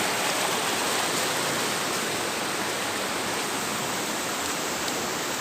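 Flood water rushing at the Kiram river mouth in Tangkisi, a broad, constant roar of churning water close by, steady and unbroken with no voices.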